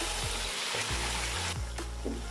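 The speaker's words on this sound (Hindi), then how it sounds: "गोश्त को जो है मैं इसमें 2-3 मिनट फ्राई कर लूँगा।" Goat meat fries in a hot pot for mutton pulao, a loud steady sizzle filling the whole stretch with a few low knocks of stirring underneath.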